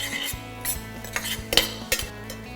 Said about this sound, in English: Keep sauteing it and make sure the garlic is not burnt.